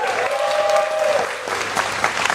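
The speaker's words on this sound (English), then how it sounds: "Can we have a round of applause for Dr." Audience applause for Dr. Melanie Samuels at a Campaign Against Hunger event in New York: a dense, sustained wash of clapping from a crowd, steady throughout with a brief tonal whistle early on.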